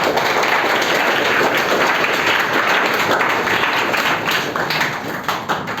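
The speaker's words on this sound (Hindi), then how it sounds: "जोरदार तालियां।" A crowd of students at a motivational gathering for those who passed applauds loudly and continuously, a dense wash of clapping that fills the room and stays steady before easing slightly at the end.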